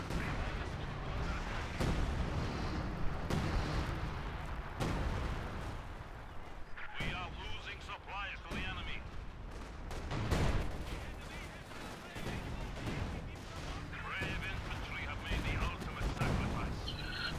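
Katyusha rocket artillery and other battle fire in Company of Heroes 2, with repeated booming blasts and crackling gunfire in a dense mix of combat noise and scattered game voices.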